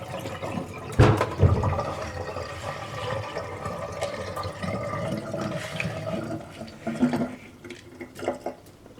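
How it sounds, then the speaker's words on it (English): Dirty soaking water from washed ukwa (African breadfruit) seeds is poured away, a sudden splash near the one-second mark followed by continuous sloshing and trickling, loud and close with no talk. "You have to pour away the water."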